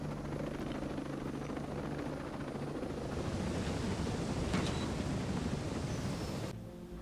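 A small drone flying in a video game, its steady whirring rotor drone holding close and constant throughout before cutting off abruptly near the end.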